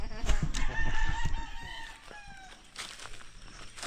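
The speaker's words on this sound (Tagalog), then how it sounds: "4 na inahin yan." Four hens cluck and call near a rooster in a yard, with a busy run of sharp clucks and calls followed by quieter clucking.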